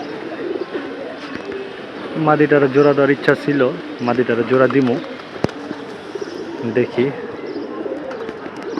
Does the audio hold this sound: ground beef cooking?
no